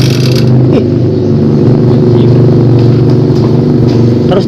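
A Honda Beat Street scooter engine running loud and close with steady revving, a dense continuous drone that stalls and starts with difficulty.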